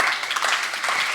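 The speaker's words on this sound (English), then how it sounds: "Let's give her a round of applause." Clapping from a seminar audience after a talk at a career skills event, a steady, fairly loud round of applause with no voices over it.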